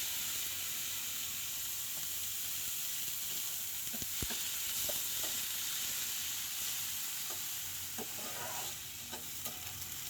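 Small local shrimp frying in oil with onion, green chili and garlic: a steady, faint sizzle and hiss with light scrapes and taps of a stirring spoon, no talking.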